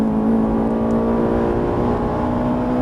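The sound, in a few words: Ferrari 458 Italia accelerating at full throttle on track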